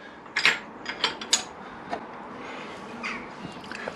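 Wrench turning the crankshaft nut on a 1994 Triumph Sprint 900 engine during a valve clearance check, giving a few close, sharp ratcheting clicks in the first second and a half, then quieter scattered ticks.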